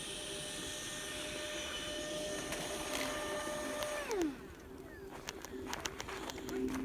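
A homemade radio-controlled electric ducted fan jet flying at full throttle gives a steady high whine that sags sharply in pitch around the four-second mark. Fainter motor tones and scattered ticks and wind noise follow.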